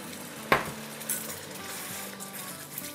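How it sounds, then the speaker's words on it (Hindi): Half a cup of water poured into a pan of frying fish masala, giving a brief sharp burst of sizzle that settles into a quiet steady fry with a faint clink of utensils. "इस पॉइंट पर हम इतना पानी डालेंगे जितना हमें शोरबा चाहिए"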